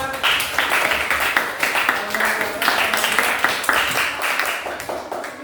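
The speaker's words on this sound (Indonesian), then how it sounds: "Tepuk tangan buat kelompok 5" A class gives applause for student group 5, a steady wash of many hands clapping at moderate distance with a faint voice underneath, lasting several seconds.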